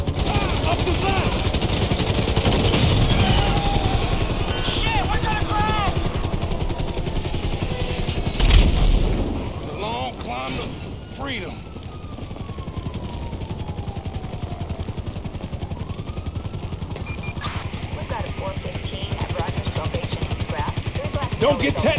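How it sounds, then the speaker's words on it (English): A helicopter hovers over a gunfight during a GTA 5 heist mission, with steady loud rotor and engine noise under bursts of gunfire, a sharp blast near the middle, and busy, dense game effects throughout. "We ain't going nowhere with that chopper on us."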